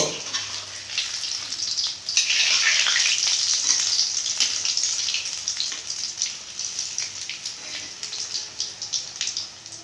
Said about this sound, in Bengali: তেল গরম হয়ে গেছে আমি একে একে এরকম ছেড়ে দিব